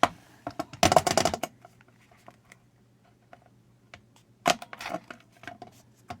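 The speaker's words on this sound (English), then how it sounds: "And there's my hole punch." A handheld crocodile-shaped hole punch clacks through craft cards in sharp, close bursts, a dense cluster of clicks early on and another flurry later, with quieter taps and paper handling in between.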